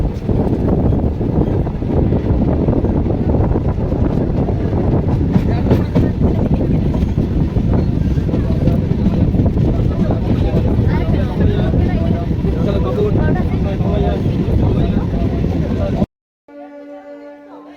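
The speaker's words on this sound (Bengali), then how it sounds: "আমাদের ট্রেন এসে পৌঁছালো তার পরবর্তী স্টেশন ধানসিমলাতে" Passenger train on the Masagram–Bankura line rolls steadily between stations, a loud continuous rumble of wheels and carriage noise with wind buffeting, broken off abruptly near the end by a brief tonal beep.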